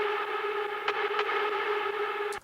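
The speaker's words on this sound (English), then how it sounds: "So if I just play this without reverb," A hard trance synth lead plays dry, with no reverb: a bright, buzzy, sustained tone holding steady for about two seconds before cutting off abruptly.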